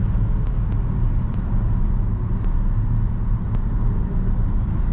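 Steady low road rumble inside a moving 2020 Peugeot 5008 with the air conditioning off, a constant dense hum with a few faint high ticks over it, no talking.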